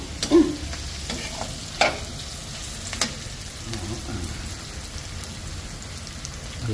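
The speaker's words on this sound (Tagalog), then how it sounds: "Malapit na maluto yung sibuyas." Onions frying in a pan for a home-cooked Filipino meal, a steady sizzle with a few louder stirring clinks and scrapes up close.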